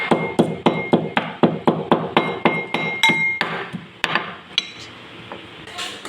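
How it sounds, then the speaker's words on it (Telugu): Cardamom pods pounded in a mortar while jaggery syrup is prepared, a steady run of about a dozen sharp, ringing metallic strikes at an even rhythm, then a few sparser, softer knocks, close and loud with no talk. "ఇంకా ఇలాచి అనేవి దంచేసుకుందాము"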